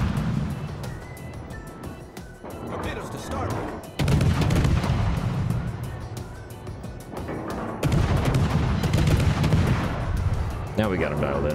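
Naval battleship gunfire in the World of Warships video game, heavy booming shell blasts and rumbling salvos recurring over dense game ambience and engine drone.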